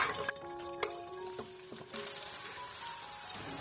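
Chopped onions sizzle and fry in hot oil in a pan, a steady close hiss with a few soft clinks of a utensil, no voices.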